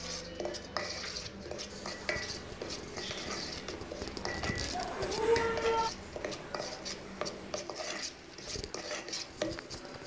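Flour mix stirred bit by bit into chocolate biscuit cake batter in a bowl, with soft scraping, spoon clinks and taps against the bowl, while a person talks over it.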